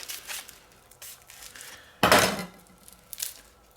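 A knife works on yellow onions on a board, with a few faint taps and then one louder sharp clunk near the middle, followed by softer knocks; no talking.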